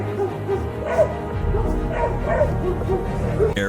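Several dogs bark, yip and whimper in excited bursts at close range as they chase an intruder off a family's home property, the calls overlapping in a loud, steady stream.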